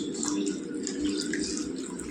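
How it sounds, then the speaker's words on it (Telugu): A little water is poured into a pot of bochcha fish pulusu curry, making a brief, close trickle and drip of liquid. "కొద్దిగా నీళ్ళు కూడా వేసి ఇందులో వేసుకుందాం."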